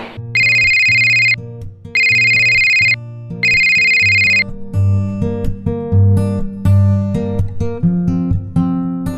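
A telephone ringtone repeats in three loud, steady bursts with short gaps, then gives way to a busier melodic tone pattern, with no talking.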